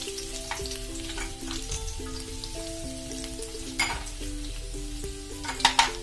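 Garlic sizzles in a hot oiled pan while cooking chicken sizzler at home, a steady crackling hiss with a few utensil clinks near the end, over soft background music and no talking.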